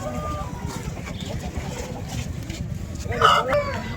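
At a busy Sunday poultry market in Vijayawada, a rooster lets out a short crow near the end, rising over a constant backdrop of clucking birds, crowd noise and people talking.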